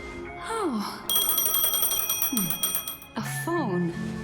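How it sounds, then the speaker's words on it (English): Phone ringing in the sci-fi game Honkai: Star Rail, a bright electronic ring lasting about two seconds amid swooping game sound effects and a voice speaking. "A phone. Wanna listen in?"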